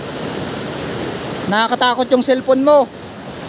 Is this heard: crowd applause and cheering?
no